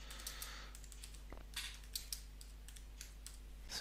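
Keystrokes on a computer keyboard entering a line of text, heard as faint, sparse clicks spread across a few seconds over a steady low hum, with no voices.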